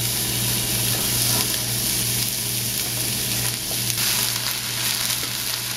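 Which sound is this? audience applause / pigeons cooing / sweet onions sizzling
sweet onions sizzling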